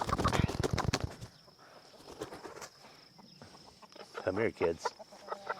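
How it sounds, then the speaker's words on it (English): A Brahma rooster clucks and squawks nearby in a few short loud bursts, with wing flapping and a person talking softly in between. "Here's one of our roosters."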